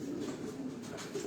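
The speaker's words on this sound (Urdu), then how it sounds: "یہ سارے ہائی فلائنگ پیجن ہیں" High-flying pigeons coo on a rooftop in Karachi Defence, giving soft, low, repeated cooing that overlaps in a continuous murmur at close range, with faint outdoor background and no talk.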